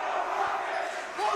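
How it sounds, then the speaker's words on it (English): Crowd of fans in a basketball cheering section chanting and cheering at a high school game, a steady roar of many voices throughout. "Rocket cheering section"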